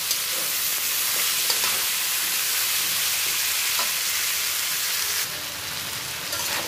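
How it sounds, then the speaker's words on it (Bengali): Tomatoes sauté in a pan with potatoes and pointed gourd for a hilsa curry, giving a loud, steady, hissing sizzle that runs throughout with faint stirring knocks. "এবার টমেটো দিয়ে বেশিক্ষণ কষাবো না।"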